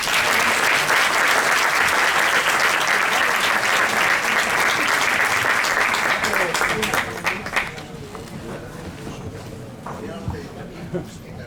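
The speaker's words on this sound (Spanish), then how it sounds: "Recibamos con un fortísimo aplauso al periodista, escritor y productor musical español especializado en flamenco, José Manuel Gamboa." A festival audience at a flamenco festival applauds loudly and continuously, the sustained clapping filling the room before thinning out and dying away into scattered claps and room noise.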